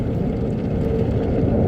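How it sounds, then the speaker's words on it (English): Steady, loud low rumble and whir from inside a car passing through an automatic car wash, continuous with no clear breaks. "Sorry if it's a little loud in here. Going through the car wash."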